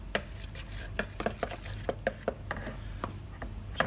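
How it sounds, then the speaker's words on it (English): Bread dough is mixed in a bowl with a dough whisk, producing a quiet, irregular series of knocks and scrapes against the bowl. "Now I'm using a dough whisk here"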